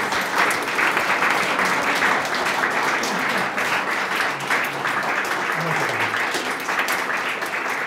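An audience at a Phi Beta Kappa convocation claps for new initiates, a dense, sustained round of applause that fills the room steadily throughout.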